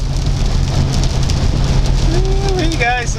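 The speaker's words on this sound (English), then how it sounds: "guys, look at that rain" Heavy rain pours down in Seattle as a loud, constant roar of drops on a hard surface. A low engine-like hum runs underneath, and a short gliding tonal sound comes near the end.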